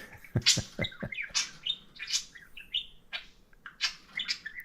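Pet birds in their cages chirping and chattering nearby, a lively series of varied short calls, squeaks and whistles in irregular bursts, fairly quiet overall.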